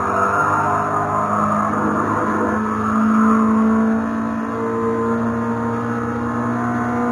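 A virtual Toyota GR86 lapping a track in a racing game: a steady, droning engine note holding near constant revs with a slight rise and dip in pitch, loud and continuous, no talking.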